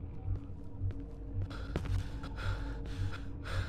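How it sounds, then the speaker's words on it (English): A character in the horror video game Cry of Fear breathes heavily, with rhythmic, evenly spaced breaths over a low ambient drone, a few faint thuds or footsteps mixed in. "I got this dude breathing."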